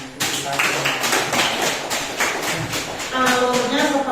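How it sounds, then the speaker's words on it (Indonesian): Classroom of students clapping hands together after reading aloud the Indonesian proclamation text, a few seconds of dense irregular claps close by, with some voices mixed in near the end. "tepuk tangan"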